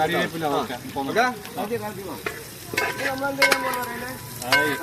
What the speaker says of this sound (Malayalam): നന്നായിട്ട് ഇളക്കിക്കോ